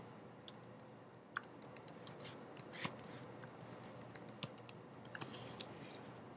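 Username and password being typed on a computer keyboard during Mac OS X database connection setup: a sparse run of light, irregular key clicks over a steady low hum, fairly quiet and close.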